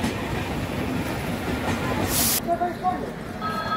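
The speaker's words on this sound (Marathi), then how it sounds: "ही चालली गाडी, सुटली जनशताब्दी रत्नागिरीसाठी" The Janshatabdi Express pulling out of Chiplun station on the Konkan Railway toward Ratnagiri, a steady loud rumble and rolling clatter of coaches close by, with a brief hissing burst near the end.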